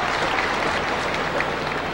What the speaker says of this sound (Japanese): 拍手が起こります。